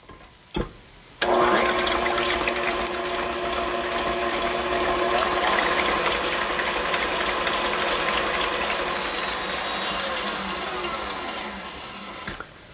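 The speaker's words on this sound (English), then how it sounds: "So I'm going to start by beating my egg whites and my sugar until they're stiff." An electric mixer beats egg whites and sugar for lemon puff cakes, starting with a brief burst and then whirring loudly and steadily for several seconds. No one speaks.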